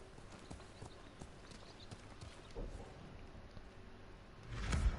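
Horse hooves in the Ghost of Tsushima video game clop in a steady walking rhythm, fairly faint, before a louder thump and rush near the end.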